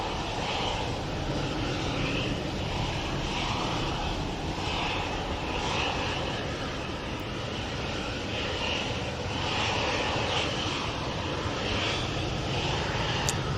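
A Hainan Airlines Airbus A330 departing from the runway makes a loud, continuous jet engine roar that holds steady throughout, with no talking.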